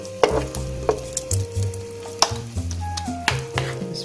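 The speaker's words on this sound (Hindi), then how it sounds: "अभी हम अपने इसमें नूडल्स के कबाब जो हैं वो डालेंगे, बस एक एक चम्मच में आप यूँ डालते जाएंगे" Spoonfuls of noodle kebab mixture fry in a hot pan, with steady close sizzling and a few soft clinks and scrapes of a spoon against the pan.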